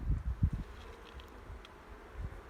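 A soft buzz of honey bees near a hive during an autumn check, faint and close, with a few low thumps and bumps in the first half.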